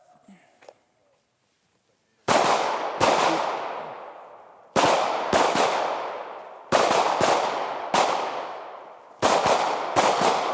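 Gunfire from a shooting drill on a range, fired while moving: four loud pairs of sharp shots spaced about two seconds apart, each crack ringing out with a long decaying echo.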